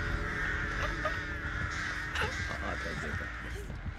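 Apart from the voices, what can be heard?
crows cawing in Dead by Daylight video game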